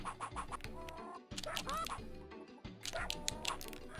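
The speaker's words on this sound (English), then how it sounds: "So now I'm going to get the hens into the coop here." Hens cluck and squawk in the 102 Dalmatians: Puppies to the Rescue video game, several bright clucking calls in bursts over a busy, bouncy game backdrop, with no talk.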